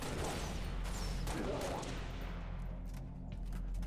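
Bursts of battle rifle fire in the Halo Reach video game, dense and loud, with crackling shots filling the whole stretch alongside other battle noise.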